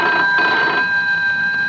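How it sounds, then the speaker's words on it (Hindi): An old-fashioned household telephone rings in a home, a loud, steady electronic ring that sounds close and continuous with no one talking over it. "अरे देखना तो बेटा किसका फोन है।"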